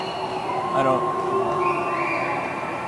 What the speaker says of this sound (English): We hear a lot of noise from the crowd.